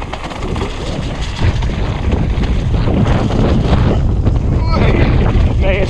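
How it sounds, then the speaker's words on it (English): Wind buffets a microphone outdoors during a mountain bike ride, a loud, continuous rough rumble that thickens as it goes on. "It's getting windy now in here."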